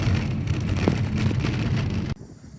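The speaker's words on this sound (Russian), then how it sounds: "Идет мелкий дождь" Light rain falls in Iceland, a steady hiss with faint wind buffeting on the microphone that cuts off abruptly near the end.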